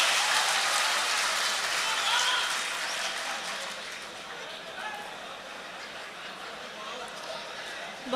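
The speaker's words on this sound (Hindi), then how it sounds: "एक बार भरपूर तालियां शाइस्ता सना के लिए" Audience at a Doha mushaira applauds the poet Shaista Sana: a dense, loud wash of clapping that starts strong and gradually thins, with faint chatter mixed in.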